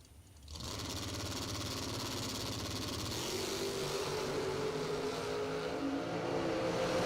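At a drag strip, a Corvette Roadster launches from the right lane, its engine rising from quiet into a sustained, distant roar that climbs steadily in pitch as it runs down the track.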